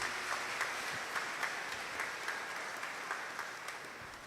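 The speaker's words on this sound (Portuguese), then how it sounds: "Dá uma salva de palmas para Jesus." A church congregation claps together during a Catholic Mass. The applause is steady and dense, at moderate loudness, and runs without a break through the whole stretch with no voices over it.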